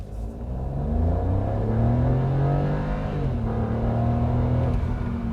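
Hyundai HB20 1.0 TGDI with automatic transmission accelerating hard from low speed, the engine note rising steadily and loudly through a gear change, close and alone without talk.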